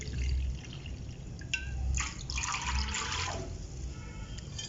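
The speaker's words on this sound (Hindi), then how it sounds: "तो 2 कप हमने पानी डाल दिया है" Water pours and splashes into a pot for a couple of seconds, fairly close, with faint kitchen clatter around it and no talking.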